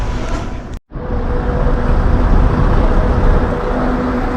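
A city bus pulls into a station stop, its engine a steady, loud broadband rumble after a brief silent break near the start, holding close and continuous to the end with no talk.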